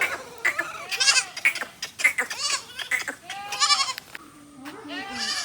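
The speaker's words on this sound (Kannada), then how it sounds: "ನೋಡಿ ಏಡು, ಮೇಕೆ, ಬೇ." Goats bleating on a village farm in coastal Karnataka, a run of loud, wavering bleats close by, one after another, with short pauses between calls.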